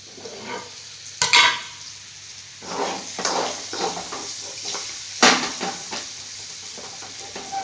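Gooseberries sautéing in oil in a home kitchen pan, with a steady sizzle broken by several sharp scraping stirs of a spoon against the pan, close and fairly loud, no talking.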